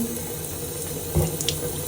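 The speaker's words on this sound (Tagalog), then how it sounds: "Kailangan naka-on yung tubig. Hinaan lang natin para hindi sayang yung tubig." A tap turned to a low flow runs water steadily into a sink for just under two seconds, with a brief louder splash partway through.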